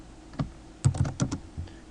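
Quick bursts of keystrokes on a computer keyboard while entering C++ code, about eight clicky taps in uneven clusters, close and alone.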